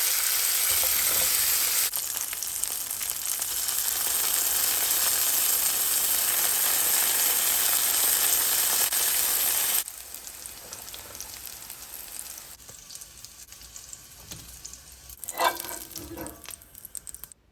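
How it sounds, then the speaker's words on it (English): Chicken sausage sizzles in a frying pan with a loud, dense, steady crackle that drops to a softer sizzle halfway through, broken by a few scraping stirs near the end. "I'm going to add the rest of the sausage to the frying pan."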